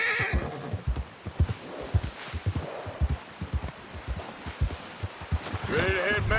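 A horse in Red Dead Redemption 2 trots through snow, its hooves thudding in a steady clip-clop rhythm close by, then lets out a loud neigh near the end while a voice murmurs briefly.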